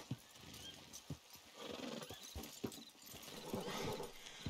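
Horses heard faintly at a distance: irregular hoof thuds and clops over a soft outdoor background, with a hint of whinnying and no speech.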